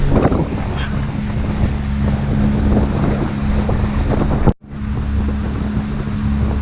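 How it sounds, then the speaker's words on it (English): Wind roars over open water on a boat trip, a loud, close, buffeting rush with a low rumble underneath that cuts out briefly near the end, then resumes. "The wind has died down a little bit."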